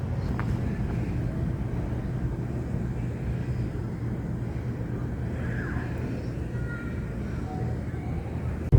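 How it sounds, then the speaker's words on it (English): Steady low rumble of a vehicle rolling slowly through an RV campground in Florida, a constant engine and road drone with faint higher tones drifting over it, no voices. "We're driving to one end of the campground just to avoid walking in the heat right now"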